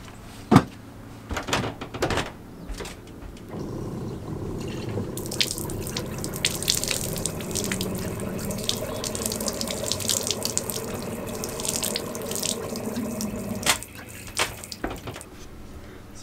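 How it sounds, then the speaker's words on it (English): Water from a camper trailer's converted sink drains out of the outside drain outlet, a steady splashing flow that runs for about ten seconds after a few knocks and clunks, close and without talk. "So as you can see, it drains pretty well."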